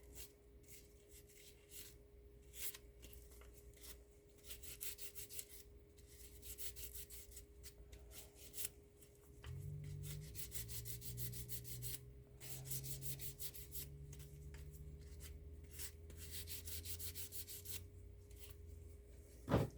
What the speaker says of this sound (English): this is a really fine sandpaper that I'm using here